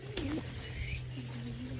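Soft, low pigeon cooing runs through the clip, a steady murmuring coo over a noisy background with a few higher bird calls.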